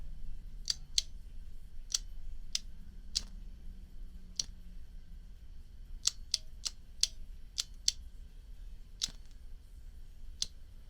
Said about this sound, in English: Trim that wick up a little.